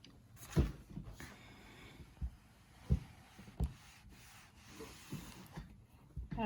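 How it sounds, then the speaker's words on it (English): An iron presses a fabric seam flat, heard as quiet rubbing and sliding strokes with several soft thumps as the iron sets down on the cloth. "Now I want to press this flat."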